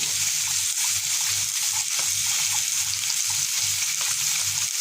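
A flour-thickened cheese sauce is stirred in a pan with a rhythmic scraping, about two strokes a second, over a constant bubbling hiss.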